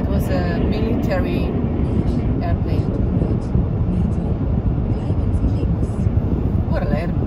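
A loud military airplane passing overhead on a Swiss road trip, heard as a continuous broad roar inside a moving car with road and wind noise, with people talking over it.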